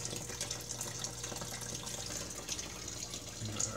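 Water from a fish room's aquarium tanks pours steadily into a drain tub, a continuous close splashing rush with no speech.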